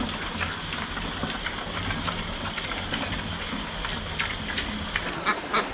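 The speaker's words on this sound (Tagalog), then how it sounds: "Yung mga itik natin, naliligo agad sa sapa." Domestic ducks bathing in a stream give a few scattered quacks over continuous splashing and running water, with a rain-like patter filling the outdoor scene.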